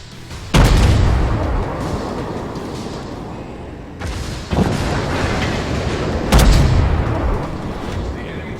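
Main guns of a warship firing in the naval game World of Warships: three heavy, booming salvos land several seconds apart, each a loud, close blast trailing into a long rumble, with a voice talking between them.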